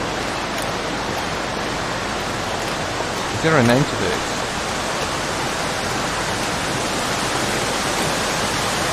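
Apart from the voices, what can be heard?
waterfall near an ice cave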